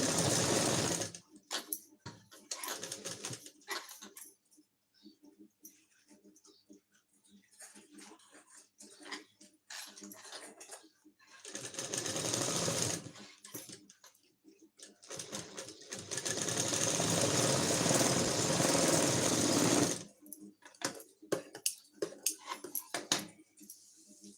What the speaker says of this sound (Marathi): आता आपण याच्या कडेने टीप मारून घेऊ